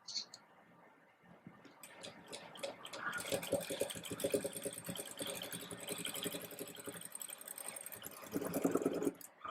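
A sewing machine stitches fabric for a sleeveless dress, its busy mechanical whir running continuously at close range for most of the stretch, with faint handling noise around it.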